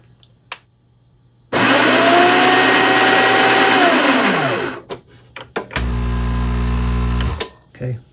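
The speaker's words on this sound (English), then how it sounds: "I think this controls the grinder." The grinder of a Breville Barista Express espresso machine, bought dead on arrival and under repair, runs loud and close with a steady whine for about three seconds, then a lower, rougher burst follows.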